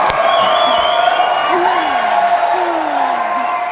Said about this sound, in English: you can hear the cheering behind us as everybody was following along the Falcon 9 team